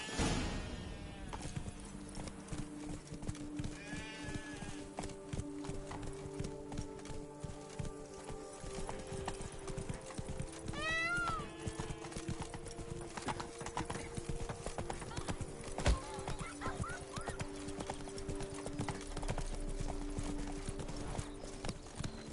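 Roach, Geralt's horse in The Witcher 3, trots in steady clip-clop hoofbeats through the whole stretch, with a brief whinny partway through, music underneath and characters talking over it.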